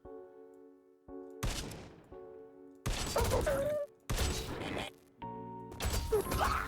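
Gunfire through walls in the bullet-hell roguelike Enter The Chronosphere comes as four loud bursts of shots with crashing impacts, separated by short gaps where a sustained musical tone holds underneath.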